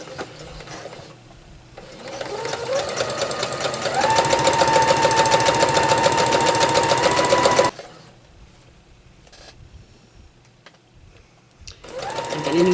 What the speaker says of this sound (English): And then I'm just going to sew this down.